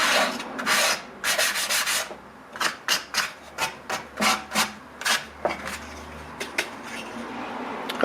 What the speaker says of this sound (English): MDF actually sands very easily.